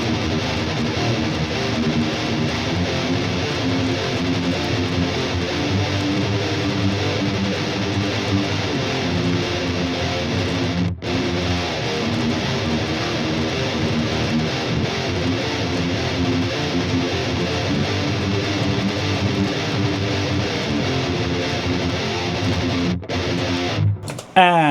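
Distorted electric guitar runs through an amp modeler and a purple Rev pedal, a thick, sustained, heavily saturated chord wall held steadily loud for over twenty seconds, briefly cutting out near the middle and again at the end.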